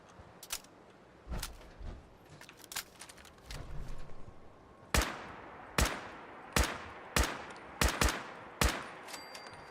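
Gunfire in the video game Fallout 4, Far Harbor: scattered shots at first, then a regular run of sharp, loud single shots about a second apart, each with a short echoing tail.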